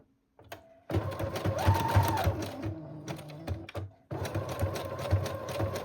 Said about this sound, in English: Doing a back stitch to easily get that back and forth.